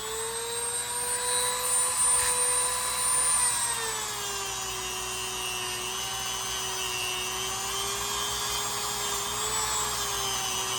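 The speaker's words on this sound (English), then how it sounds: "You can let the Dremel do the work for you" Dremel rotary tool grinding the spine and bolsters of a 1942-45 Queen City swell end jack knife, a steady high-pitched whine running throughout, close and continuous with slight pitch shifts as it bears on the metal.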